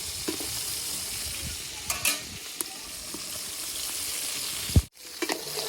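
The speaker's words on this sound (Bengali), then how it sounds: "তো দেখেন মাছগুলো ভাজা হয়ে গেছে" Fish frying in oil in a pan on a clay stove in a village kitchen, a steady close sizzle with a few scraping stirs and a brief dip near the end.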